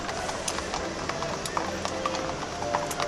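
Horses' hooves clip-clop on pavement during a Saint-Jean-Baptiste parade, a steady run of fairly close, crisp strikes under crowd noise and some talk.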